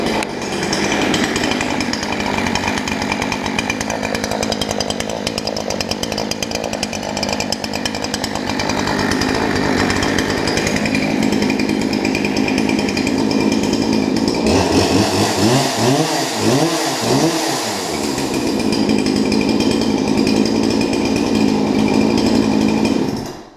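A chainsaw with a freshly repaired chain runs loud and close for over twenty seconds, a harsh sustained engine roar with revving swells in the middle.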